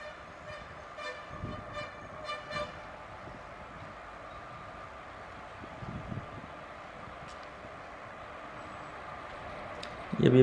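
Indian Railways freight train pulling out of a station, a low rumbling roll with a distant tonal horn early on, under faint background talk, building louder at the end.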